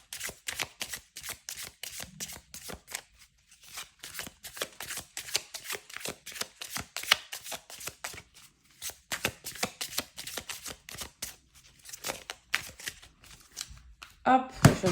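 Oracle cards being shuffled by hand and drawn, rapid dry papery riffling in bursts with brief pauses, close and quiet.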